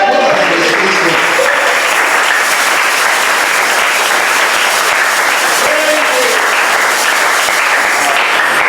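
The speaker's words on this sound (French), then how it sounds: "Applaudissez pour le Seigneur." A church congregation applauds loudly and continuously during a sermon, a thick wash of clapping with voices calling out beneath it throughout.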